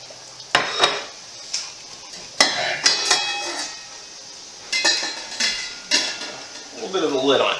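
A whole chicken, about four pounds, is lowered into a pot of boiling water on a home stove, with clanks of the pot and lid, a few sharp knocks, and bubbling sizzle at the end.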